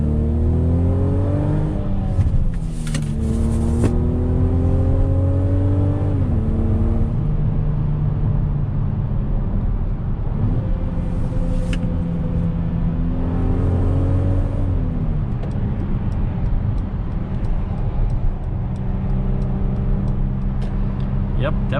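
A 2021 Mercedes-Benz GLC coupe in Sport Plus manual mode, its engine loud and close as it revs up through rising, falling gear pulls with downshifts, a steady roar throughout.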